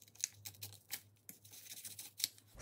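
A craft knife slices slits into a mixed media junk journal cover, giving a series of quiet, short scraping and tearing strokes in an irregular rhythm, close and faint, with no talking.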